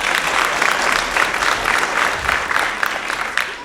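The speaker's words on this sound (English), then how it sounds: "Give those 28 men a round of applause." Steady audience applause at a 7-on-7 gridiron football event, a crowd clapping continuously at moderate loudness with a few sharper claps standing out.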